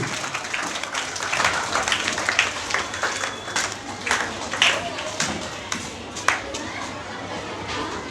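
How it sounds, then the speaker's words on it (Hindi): Applause for a school team at a Hindi quiz contest, moderate, scattered clapping with sharp individual claps in a hall, while a voice talks over it. "जोरदार तालियों से स्वागत कर"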